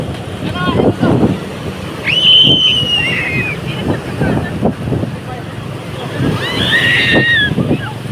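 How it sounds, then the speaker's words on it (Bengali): Large sea waves roll and break on a beach, with a loud, continuous wash and surges, wind buffeting the microphone, and bright shouts and cries of people bathing nearby. "এই যে দেখেন কত বড় বড় ঢেউ আসে বিশাল বড় বড় ঢেউ"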